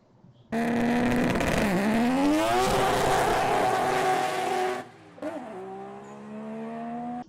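A Mazda RX-7's rotary engine revs hard and climbs in pitch, drops, then rises again in a raspy rotary brap, with a short pause near the end.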